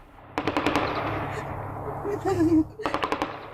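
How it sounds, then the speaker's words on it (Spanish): Heavy-calibre automatic gunfire from an intense shootout, two sharp bursts of rapid shots near the start and end with a rumbling background between them, loud and close. "Una intensa balacera con armas de grueso calibre."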